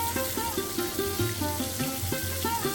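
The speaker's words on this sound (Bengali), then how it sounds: "প্রথমে আমি পটলটাকে একটু ভালো করে ভেজে নিতে হবে।" Marinated pointed gourd (potol) frying in hot oil, giving a steady, close sizzle with repeated short tonal scraping strokes layered over a low hum, and no voices.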